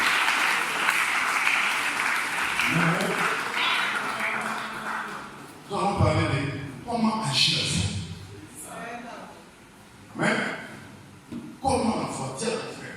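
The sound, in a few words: church congregation applauding the Lord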